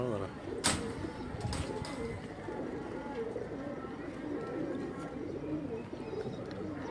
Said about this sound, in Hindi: ये भी हाफिज आमर साहब के घर से कबूतर हमारे पास आया था